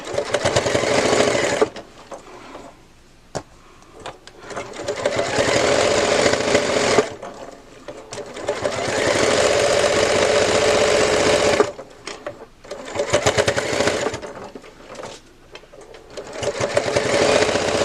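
A sewing machine stitches a quilted patchwork bow in steady running bursts, stopping between passes with short pauses and then starting again, close and fairly loud with no talking.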